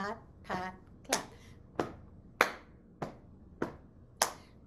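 Body percussion of patting and clapping, played as a steady repeating pattern of sharp hand claps and softer pats, close and alone, with a voice singing lightly at the start.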